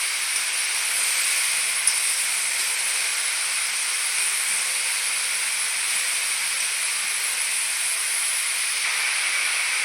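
Chopped bottle gourd goes into a pan of fried onion and chili, and a steady hissing sizzle carries on evenly throughout, with no talk over it.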